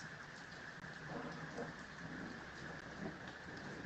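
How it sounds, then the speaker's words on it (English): Rain falls steadily with low, distant thunder rumbling through it. The whole storm is faint and wash-like, heard from indoors with no talking. "I think that's thunder."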